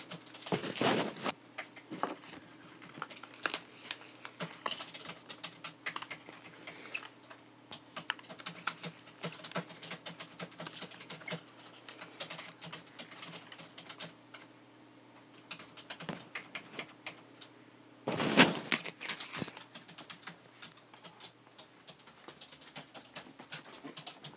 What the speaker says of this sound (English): Sound of typing.